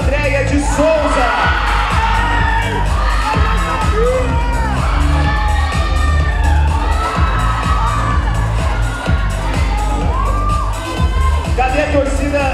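Loud crowd cheering, whooping and shouting throughout at a bodybuilding championship awards ceremony, IFBB Goiás state event, wellness category placings, with dense continuous applause-like roar and scattered yells.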